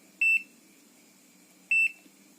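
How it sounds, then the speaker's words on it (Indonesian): A digital multimeter set to its buzzer continuity mode gives two short, clear electronic beeps, about one and a half seconds apart, close and alone against a faint background hum. "Kita set dulu ke mode buzzer karena ini auto."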